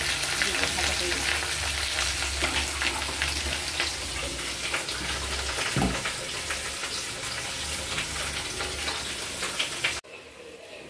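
Salted, turmeric-coated fish fry in oil in a wok, giving a steady, close sizzle with crackles and spatters for about ten seconds before the sound drops away abruptly.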